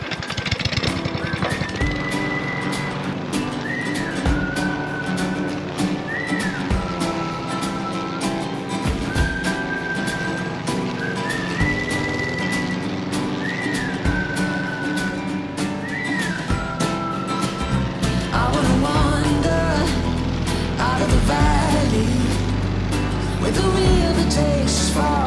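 A steady, loud motor drone runs throughout, like a lawn mower engine, with a rising whine heard intermittently and no talking.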